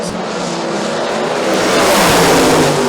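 Drag racing cars launch down the strip at Maryland International Dragway, engines roaring loud and building in intensity as they accelerate away, with no talk over the noise.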